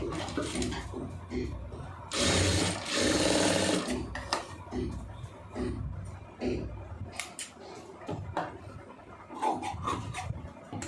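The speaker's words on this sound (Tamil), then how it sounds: "ஏற்ற இறக்கம் இல்லாமல் கரெக்டாக தைச்சிருங்க" A sewing machine stitching an armhole seam on a garment runs in a loud close burst of rapid whirring, then gives way to scattered knocks, rustles and short stitching runs, with a few soft voices now and then.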